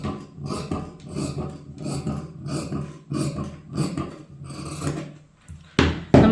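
Scissors cutting through blouse fabric, a run of loud close rasping snips in a steady rhythm, ending with a sharper, louder cut.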